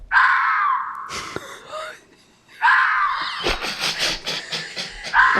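A person vocally imitates a fox's cry, giving two long, high, wailing screams separated by a short pause, close and loud, with brief talk and breaths between them.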